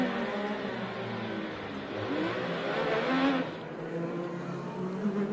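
Onboard a 2021 IndyCar race car in close racing, the engine whines and surges with rising and falling pitch in steady, continuous sound, with no talk.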